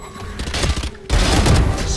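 Gunfire from the agent Phoenix in the video game Valorant near the end of a round, a loud burst of rapid shots that briefly pauses, then returns as heavier, denser firing, close and booming.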